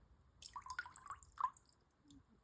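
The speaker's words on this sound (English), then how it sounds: "And then adding in some fresh water" Fresh water added to a container, heard as soft, faint drips and small splashes in a quiet room with no talking.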